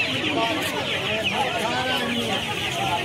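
A crowd of chickens clucks steadily at a poultry market, a dense, close chorus of short calls with people talking underneath.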